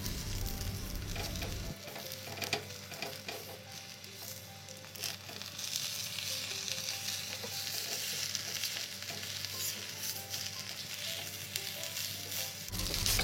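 A fried egg sizzles in a pan with a steady, continuous crackling hiss that runs throughout, close and unbroken, with no talking.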